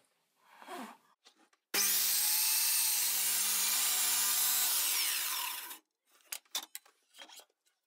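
A power saw, likely a mitre saw, cuts through wooden base boards for a bicycle stand, giving a loud, steady whining rasp of about four seconds, with a few clattering knocks of wood before and after.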